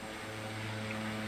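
Steady droning hum of an aircraft engine in a flight simulator game, bush flying over back mountain roads, a continuous even tone heard alone for a brief moment.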